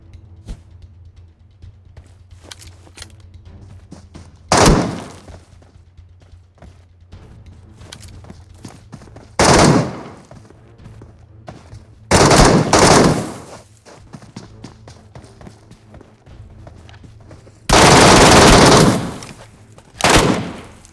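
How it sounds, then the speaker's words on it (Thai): Gunshots fired in the video game PUBG on the Metro map, several loud separate bursts at irregular intervals with quiet gaps between them and no talking. "ยิงเข้าหัวพอดีครับ"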